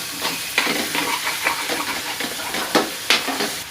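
A spoon stirs salt into a cooking dish with rhythmic scrapes and soft knocks over a gentle sizzle, close and fairly even.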